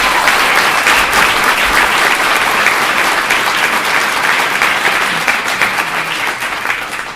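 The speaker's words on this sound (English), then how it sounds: "Let's give them some applause." Loud, sustained applause from a large audience fills the whole stretch as a dense, continuous roar of clapping that eases slightly toward the end.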